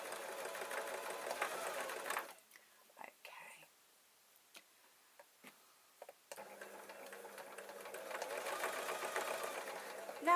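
A sewing machine stitches fleece for a sleeping top, running in steady fast bursts at the start and again after a quiet pause, close and clear with a soft voice in between.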